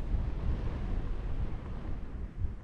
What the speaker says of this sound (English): And my gosh, that wind.